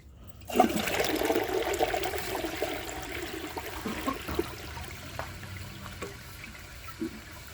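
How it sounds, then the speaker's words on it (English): A 2000 Universal-Rundle Atlas toilet flushes a second time, opening with a loud whoosh of rushing water that settles into a steady gurgling refill and trickle, close by with no talk. "So I'm going to give it a second flush."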